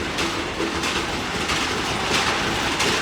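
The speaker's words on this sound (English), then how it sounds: "That pounding you hear is the spices being ground on site" Spices pounded by hand on site at the Lalbaug Spice Market in Mumbai, India: repeated dull thuds land in a rough rhythm over dense, constant market noise, fairly close and steady throughout.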